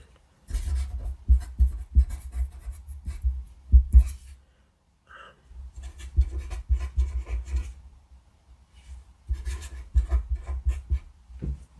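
Close, soft squeak and scratch of a Sharpie marker on paper while writing math functions, in short strokes grouped into three bursts separated by brief silences.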